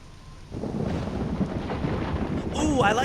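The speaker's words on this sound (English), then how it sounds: "I like the way that the lightning sounds completely different if you hear it from over there" Thunder rumbles in a video game, a broad roll that swells after a quiet start and stays loud, with a brighter crack and streaking noise near the end, heard from a distance.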